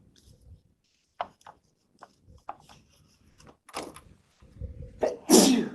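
A single loud, sharp sneeze bursts out near the end of a meeting, after a stretch of quiet clicks and soft movement.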